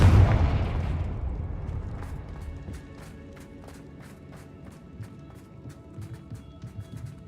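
A Confringo fire spell goes off in a video game with a heavy booming blast that rolls and fades over several seconds, followed by a steady low rumble with faint repeating clicks and crackles.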